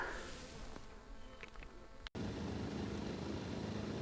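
Bees hum continuously around a hive near an oak tree on a hilltop, a steady low buzz at moderate distance with a brief break midway.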